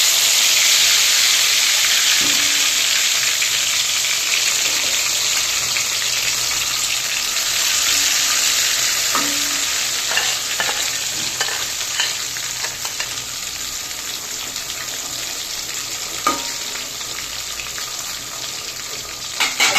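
Taro chunks coated in salt and turmeric fry in a pan, giving a steady, close sizzle that runs throughout with a few soft clinks and stirring scrapes and no talking.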